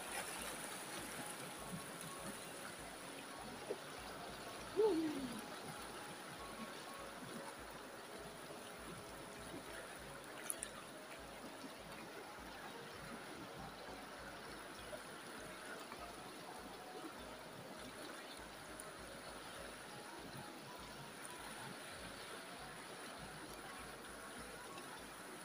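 River water flowing steadily at Punsong Bato River in Bulacan, a faint continuous rushing and trickling with no talk over it.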